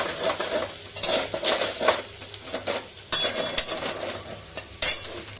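Potatoes fry in a pan with a continuous sizzle while a utensil stirs and scrapes them, producing several sharp clinks and scraping bursts against the metal, close and without speech.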